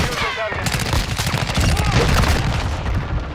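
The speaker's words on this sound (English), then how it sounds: "He walks around the corner firing." Rapid automatic gunfire from Call of Duty: Modern Warfare, with a Chimera rifle build, rattling in dense, continuous bursts at close range, with game voice chatter mixed in underneath.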